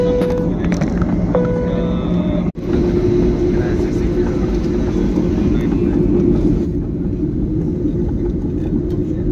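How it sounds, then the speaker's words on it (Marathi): A passenger airplane taxis onto the runway with a loud, steady engine rumble and cabin hum. A brief thump breaks the noise early on, and a few faint tones sound in the first seconds. "आता खरं रनवेवरती आलेलं आहे विमान"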